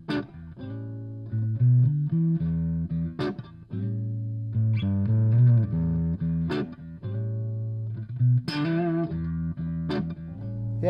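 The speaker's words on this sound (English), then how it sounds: "if you actually hook it up to a external speaker, which this amp will allow you to, this is the tone you get." Guitar played through a Greta tabletop valve amp into an external speaker, clean picked chords and single notes with sustained ringing tones, moderately quiet and close, played alone without talk.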